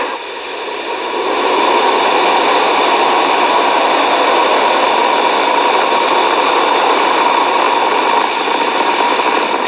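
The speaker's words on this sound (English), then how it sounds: "5, 4, 3, 2, 1, 0. Ignition and liftoff." A SpaceX Falcon 9 rocket ignites and lifts off in a broad, steady roar that swells within the first two seconds and stays loud and hissing to the end, with no talking.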